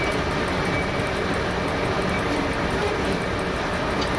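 Steady, loud rumble of a train running in the MaSzyna train simulator game, a continuous rolling roar with hiss and no distinct wheel clicks, heard alone throughout.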